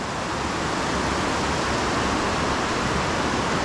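Water at High Falls pours in a steady, broadband hiss and rush, constant and fairly close, with no voices over it.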